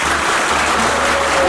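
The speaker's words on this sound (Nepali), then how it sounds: "ताली बजाउनुहोस्।" An audience at a village Christian wedding in Dhading applauds loudly and continuously, dense close clapping throughout with a faint tone running underneath.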